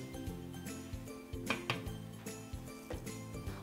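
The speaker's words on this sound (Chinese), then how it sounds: "那我们准备盖起锅盖来蒸煮。" A glass pot lid is set onto a pot for steaming cloud-shaped buns, producing a few quick, light clinks and rattles of glass against metal at close range.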